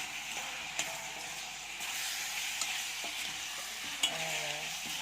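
Okra and meat frying in a pot for a tagine, stirred with a utensil: a steady soft sizzle and hiss with occasional faint clinks and scrapes, close but quiet, no voices.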